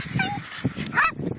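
Dog yips and barks at an outdoor dog park, a few short bursts mixed with whimpering and a faint voice nearby.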